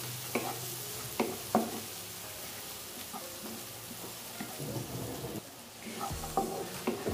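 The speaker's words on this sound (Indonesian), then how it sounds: "Ini bawang bombay. Oke, bawang bombay ya. Kita tumis sampai harum." Onions sautéing in oil and Blue Band margarine, a soft steady sizzle broken by repeated close clacks and scrapes of a spatula against the pan.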